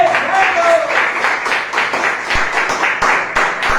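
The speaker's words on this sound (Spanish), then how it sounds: "Den un fuerte aplauso a Dios" Rhythmic clapping in a lively church service, hands beating in a quick uneven pulse with congregation voices and shouts mixed in close by.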